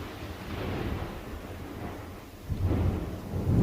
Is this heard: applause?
no